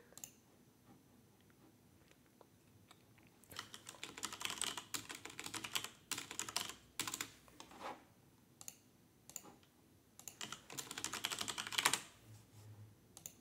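Typing on a computer keyboard, faint clustered key clicks coming in uneven bursts and pauses, close but quiet, with no talk.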